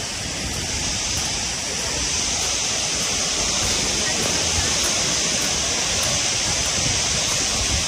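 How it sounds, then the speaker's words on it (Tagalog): Rushing, splashing water roars in a continuous loud wash close to the microphone, a steady broadband spray with no distinct individual splashes. "Ang talsik ng tubig."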